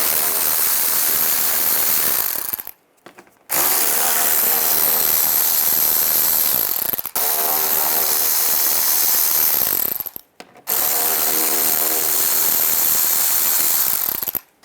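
Ratchet with a 7mm socket backing out screws under a 2010-2017 Chevy Equinox windshield washer pump area, loud rapid clicking bursts of several seconds each, separated by brief silent pauses, close up.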